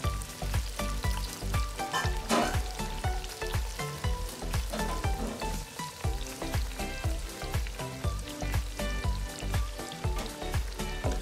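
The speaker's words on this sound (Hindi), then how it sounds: "इसमें अब हम योगर्ट दही डालेंगे। इसको अच्छी तरह फेंट लें" Yogurt is stirred into a sizzling chicken seekh kebab karahi, giving a loud close sizzle broken by rapid rhythmic scraping and clinking strokes that continue throughout without talk.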